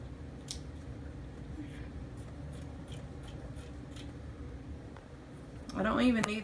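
Scissors cutting a fabric bandana down the middle, with close, soft snips and rubbing that rise to a louder crunching cut near the end, in a quiet room.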